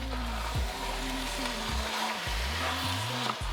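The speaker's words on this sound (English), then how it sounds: "And then we stir it" Vegetarian pilau sizzles steadily as it fries in a pot and gets stirred, a constant close hiss mixed with a low droning hum that shifts in steps.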